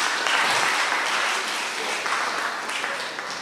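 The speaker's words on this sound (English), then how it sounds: "Give him a round of applause." Audience applause at a junior school graduation ceremony, a steady dense wash of clapping from a large crowd, fairly loud and sustained throughout with no voices over it.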